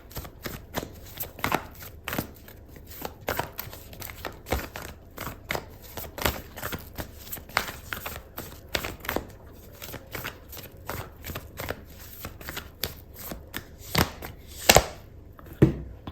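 Oracle cards being shuffled by hand, a long run of close, crisp riffling snaps and soft flicks, ending with a few sharper slaps as cards are pulled from the deck.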